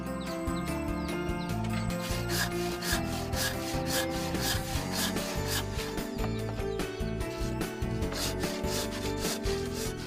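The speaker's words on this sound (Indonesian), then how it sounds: "batang kayu dibelah dengan gergaji menjadi 2 bagian" A hand saw rasps through a wooden log, splitting it in two, in steady back-and-forth strokes, loud and close, continuing without pause.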